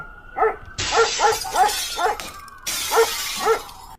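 A dog barks repeatedly in short, loud yaps with a steady rhythm, about eight barks close by, alone with no talk.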